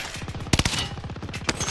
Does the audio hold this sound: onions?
no